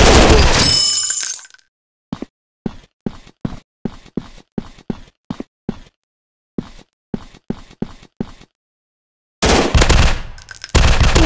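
Gunfire in a mobile first-person shooter game: about a dozen sharp single shots fired at a steady pace in near silence, framed by louder noisy bursts at the start and end.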